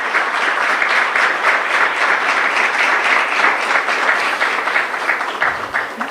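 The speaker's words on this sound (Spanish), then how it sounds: "Un aplauso al Señor." A church congregation claps for the Lord during a sermon, dense continuous applause filling the room at a strong, even level, with no voices standing out.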